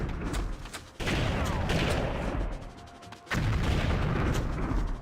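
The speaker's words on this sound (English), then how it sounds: "Oh, this dude's throwing grenades at me." Grenade explosions in the Army Men Air Attack video game: two long, loud, rumbling blasts fill the scene, separated by a brief dip, with heavy low booming and no talking.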